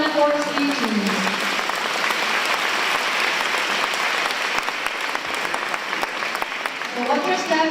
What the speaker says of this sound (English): Let's give them the biggest round of applause once again for the wonderful speeches.